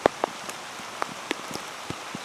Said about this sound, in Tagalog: naabutan tuloy kami ng ulan